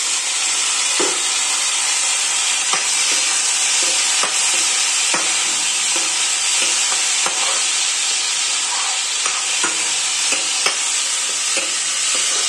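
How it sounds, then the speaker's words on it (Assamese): Tomatoes fry in hot oil for a taro and fish curry, giving a loud, steady hiss of sizzling with scattered sharp clicks and pops, close and continuous without speech. "তেলটো যেতিয়াই ফুটিব তেতিয়া আমি এই বিলাহীখিনি ইয়াত ঢালি দিম।"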